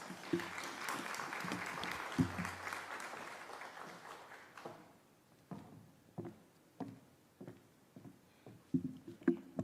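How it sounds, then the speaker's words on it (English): A small group applauds, loud at first, then the clapping thins out into scattered, irregular claps before a final short burst. "Give her a round of applause."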